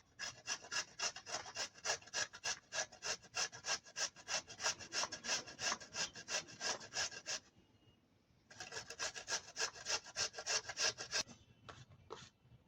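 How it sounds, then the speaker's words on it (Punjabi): Radish being grated for a radish, onion and tamarind chutney, a rapid rhythmic rasping of strokes on a grater, loud and close, pausing briefly midway then resuming before a few final scrapes, no voices. "ਹੁਣ ਆਪਾਂ ਮੂਲੀ ਆ ਜਿੰਨੀ ਕਿ ਸਾਨੂੰ ਚਾਹੀਦੀ ਹੈ ਚਟਨੀ ਵਾਸਤੇ ਉਨੀ ਕ ਆਪਾਂ ਕੱਦੂਕਸ਼ ਕਰ ਲੈਨੇ ਆ"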